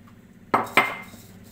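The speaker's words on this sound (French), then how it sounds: "je mélange une première fois, je rajoute ma poudre de noisette, je mélange" Two quick clinks of a utensil against a bowl while flour and sugar are mixed for clafoutis batter, close and fairly crisp, followed by quiet.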